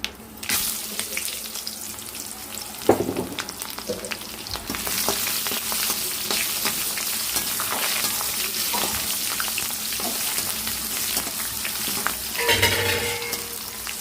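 Onions, green chilies, dried red chilies and seeds frying in hot oil in a home kitchen, a loud steady sizzle close up with intermittent stirring clatter.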